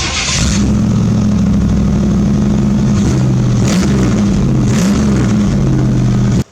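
A V8 engine in a Chevy S-10 pickup idles loud and close with the exhaust cutout open, a steady deep rumble broken by a few quick throttle blips, with no talking.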